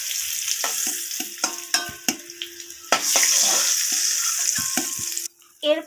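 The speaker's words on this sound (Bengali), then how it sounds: "পেঁপেগুলো আমার দু পিঠই ভালোভাবে লাল লাল করে ভাজা হয়ে গেছে" Papaya pieces, browned on both sides, sizzle and crackle steadily in hot oil, with repeated scraping and stirring knocks from a spatula against the pan, close by; after a brief quiet near the end a louder burst of sizzle returns.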